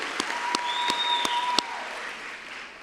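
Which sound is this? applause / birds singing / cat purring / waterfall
applause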